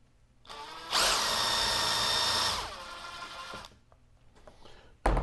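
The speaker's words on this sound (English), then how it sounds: "Now I'm going to use the drill to start the holes because it's got to go through this fiberglass" A power drill bores starter holes through the fiberglass of a DIY teardrop camper trailer. It runs for about a second and a half, loud and close, then winds down to quieter handling noises and a sharp knock at the end.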